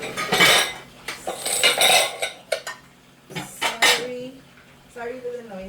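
Pots, pans and cutlery clank and clatter loudly in a home kitchen while pasta is drained, in irregular bursts of metallic knocks with running water and brief faint voices in between.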